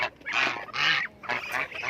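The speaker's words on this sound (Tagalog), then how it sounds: "dito sa ating alagang gansa" Domestic goose honking nearby in a farmyard, three loud nasal honks in quick succession over about two seconds, no voices.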